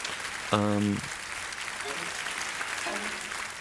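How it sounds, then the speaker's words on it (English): Steady audience applause from a theatre crowd at a stage opera, a broad wash of many hands clapping at once, with a voice speaking briefly over it. "What do you think of this clapping?"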